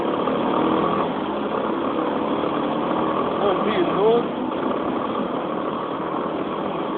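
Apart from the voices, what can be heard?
red motorcycle engine idling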